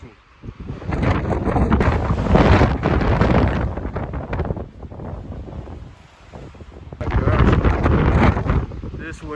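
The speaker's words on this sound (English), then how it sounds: "This wind is blowing." Strong gusting wind buffeting the microphone outdoors on a Nevada shed-antler hunt, rising and falling in loud rumbling surges, with people talking faintly underneath.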